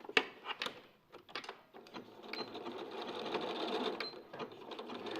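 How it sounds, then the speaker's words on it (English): A domestic sewing machine stitches fabric, starting with a few handling knocks and short bursts and then settling into a steady, fairly quiet mechanical whir and hum. "I'll sew this side from this angle"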